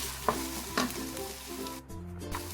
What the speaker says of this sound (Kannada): ಇದನ್ನೆಲ್ಲ ಹಾಕಿ ಫ್ರೈ ಮಾಡೋಣ ನಾನು ಸ್ವಲ್ಪ ಕರಿಬೇವಿನ ಸೊಪ್ಪನ್ನು ಸೇರಿಸ್ತಾ ಇದ್ದೇನೆ